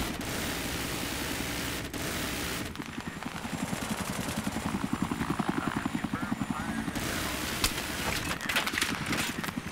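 An enemy helicopter in Battlefield 3 multiplayer thumps with steady rotor beats, loud and close, amid gunfire and battle noise, with players talking over it.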